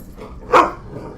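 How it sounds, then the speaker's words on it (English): Indoor dogs give a single sharp bark, loud and close, over a quiet room background. "I got stupid dogs wanting to go outside, who are now barking at people outside"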